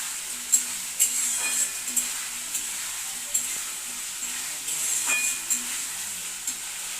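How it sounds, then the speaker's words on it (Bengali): Dried fish frying and sautéing in a pan, a steady close sizzle with soft stirring scrapes and small pops over about seven seconds, no voices. "এবারে দিয়ে দেবো শুকি মাছ ভাজা দিয়ে ভালোভাবে কষিয়ে নেবো"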